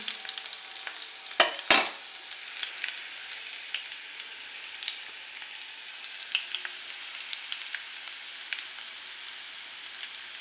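Garlic and chickpea greens frying in a pan, a quiet steady crackle and sizzle with a couple of sharp spoon knocks near the start.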